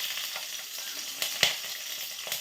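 Spices tempering in hot oil with sliced green chillies, a steady close sizzle broken by a few sharp pops and splutters.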